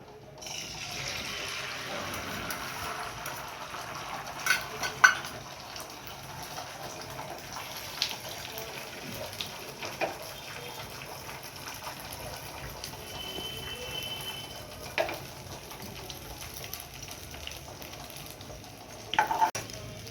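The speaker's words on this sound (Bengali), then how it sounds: "কড়াইটা গরম হয়ে গেছে, ডিমটা দিয়ে দিচ্ছি আমি।" An egg fries in a hot wok, giving a soft ongoing sizzle with occasional scraping and stirring clicks and a few brief louder knocks, fairly quiet and without talk.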